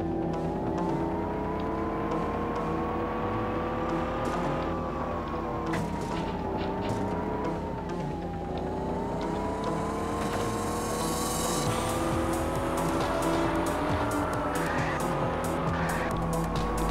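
A car in the video game Knight Rider The Game drives continuously, its engine droning and shifting in pitch as it accelerates and slows, with scattered screeching tire skids and impacts over a steady loud rumble.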